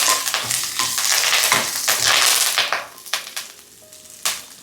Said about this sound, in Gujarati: હવે નાખી દઈશું મીઠા લીમડાના પાન સુગંધની તારી આવશે